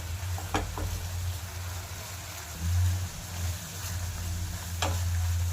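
Sardines frying in masala gravy in a pan give a continuous close sizzle and bubbling hiss, with a few faint clicks and a low steady hum underneath.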